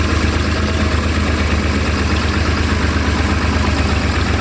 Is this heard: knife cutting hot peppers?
no